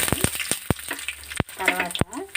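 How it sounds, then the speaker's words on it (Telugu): Cumin, mustard and fenugreek seeds hit hot oil in a pan, giving sharp crackling pops and bursts of sizzle at irregular intervals, close and prominent, with a brief voice-like murmur in the background. "ఇప్పుడు ఆయిల్ కాగింది కదా, ఫస్ట్ జీలకర్ర, ఆవాలు వేసుకుందాం. నెక్స్ట్ మెంతులు కూడా వేసేసుకుందాం."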